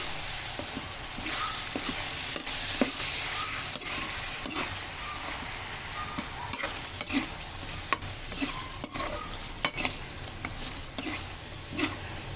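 Shrimp fry in margarine with garlic in a pan while being stirred, a constant loud sizzle with repeated scraping and clinking stir strokes throughout.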